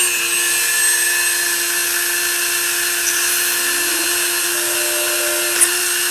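A high-speed drill spins at about 25,000 RPM, boring a clean relief hole in a DIY ball-and-spring manual boost controller. It gives a steady, loud, sustained whine with no pauses for the whole stretch.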